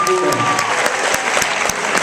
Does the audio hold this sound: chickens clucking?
no